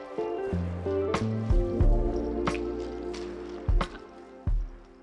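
Gloved hands work brown outdoor-rated silicone caulk into rope fibers for Halloween prop vines, making soft, wet squishing and dripping sounds in short irregular bursts, close up.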